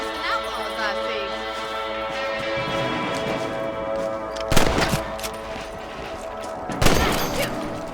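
Two sharp, loud rifle shots ring out a couple of seconds apart, fired at rabbits in the video game Red Dead Redemption, over a steady bed of game music and ambience.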